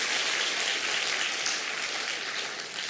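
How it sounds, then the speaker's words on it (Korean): A church congregation claps together in sustained, dense applause during a Sunday service, loud and steady before tapering slightly at the end, with no talking over it. "박수를 좀 이렇게 하자면 힘있게 좀 치세요."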